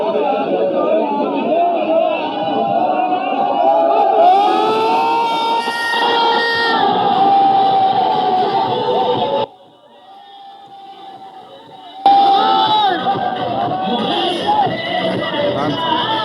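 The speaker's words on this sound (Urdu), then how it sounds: "عمران خان زندہ باد کے نعرے" A dense political crowd chants Imran Khan slogans, voices massed and overlapping at full volume; the roar drops sharply for about two seconds midway, then surges back just as loud.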